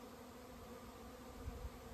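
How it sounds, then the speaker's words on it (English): A swarm of honeybees buzzes as a soft, continuous drone, steady and faint with no other sounds. "this is actually my bees swarming actually, it's a swarm of bees"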